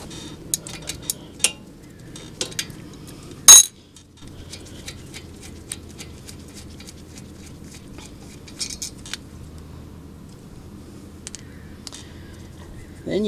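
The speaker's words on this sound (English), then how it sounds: "The next thing you need to do is take out the lower caliper bolt" Scattered metallic clicks and ticks of a socket wrench working a 14 mm lower brake caliper bolt on a 2001 Toyota Avalon, with one sharper clank midway, over a quiet background hum.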